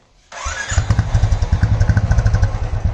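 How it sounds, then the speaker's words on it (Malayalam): A Royal Enfield Bullet motorcycle with its stock exhaust fires up abruptly and is revved, a loud, close, thumping single-cylinder pulse throbbing rapidly throughout. "അപ്പൊ ഇതാണ് ഈ വണ്ടിയുടെ സ്റ്റോക്ക് എക്സോസ്റ്റ്."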